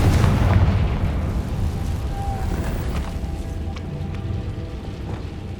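The Confringo fire spell blasts in the video game Hogwarts Legacy: a loud booming burst at the start that rolls off into a long, rumbling, crackling tail, with no voices.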